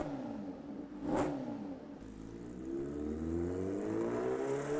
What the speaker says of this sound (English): At full load, the 998cc supercharged inline-4 accelerates rapidly through the gears